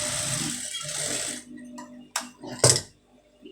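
A sewing machine runs steadily to stitch down a fold of fabric on a waistband strip, then stops, followed by a few short mechanical clicks and knocks.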